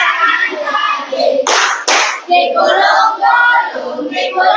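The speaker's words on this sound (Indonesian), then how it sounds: "tepuk tangan lagi." Two sharp hand claps in a children's clapping exercise, a quick pair near the middle, set against a busy background of children's voices and an adult singing along.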